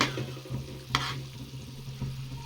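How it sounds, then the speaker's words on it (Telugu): Mutton fries in a pan over a low flame, with a steady soft sizzle and occasional scraping stirs. One sharper clatter stands out, and nobody talks. "ఒక 10 మినిట్స్ ఇలాగే సిమ్లో ఫ్రై చేసుకుంటున్నాను నేను"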